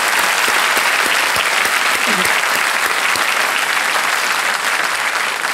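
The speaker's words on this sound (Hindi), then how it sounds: "तालियों के साथ इनका स्वागत करते हैं।" A studio audience on a quiz show breaks into dense, sustained applause welcoming a contestant, loud and continuous throughout with no pauses.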